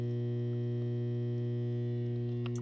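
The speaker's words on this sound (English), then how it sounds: "We'll kick it on here so you can hear what the drain pump sounds like." A Bosch dishwasher drain pump that fails to drain gives a loud, steady electrical buzz, a constant hum that runs the whole time with no break and no voices.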